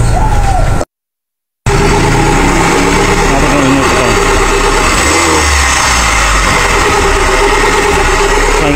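Kia Pride engine started and running with the water pump pulley removed, a steady loud idle with rough mechanical clatter after a brief gap, with a voice talking over it.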